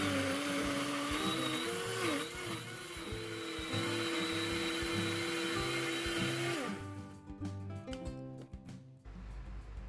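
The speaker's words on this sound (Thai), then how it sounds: "ถ้าโถปั่นเล็กก็แบ่งใส่ไปปั่นประมาณสัก 2 รอบก็ได้นะคะ" A blender whirs loudly, blending cassava with pandan juice, a steady high motor drone that shifts pitch as the load changes, then cuts off near the end, leaving rattling clatter.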